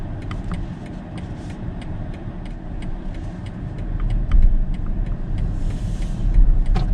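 A 2020 BMW 7-Series accelerating from inside the cabin: a low, muted engine hum that swells steadily, with faint ticking clicks over the drone and a stronger push toward the end.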